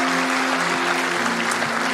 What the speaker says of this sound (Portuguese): Aplauda Jesus onde você está.